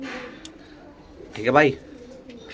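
Flying pigeon in Amritsar giving a short cooing call, a brief rolling note in the middle of a quiet stretch, with someone speaking briefly nearby.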